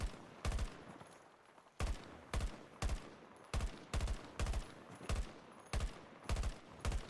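Gunfire in Battlefield 2042 as a player shoots an enemy: short, sharp bursts of two or three rapid shots repeat at fairly regular intervals, loud and close, with no one talking.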